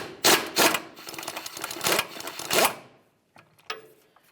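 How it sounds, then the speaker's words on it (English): A ratchet with a 21mm socket loosens the CV axle mounting nut on a 2005-2010 Dodge Dakota: a few loud bursts of close metallic clicking, then a brief quiet clatter. "Use a 21mm socket to remove the mounting nut."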